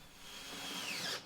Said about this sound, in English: So first I need to drill a hole that's slightly smaller than the washer.